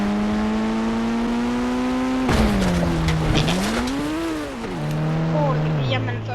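A Toyota Fortuner Legender drives in the Indian Bike 3D video game, its steady synthetic engine drone shifting pitch as it accelerates and eases off, with tire noise and a rising swell midway, loud throughout.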